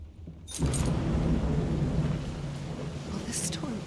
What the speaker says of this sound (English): Will this storm ever run out of rain?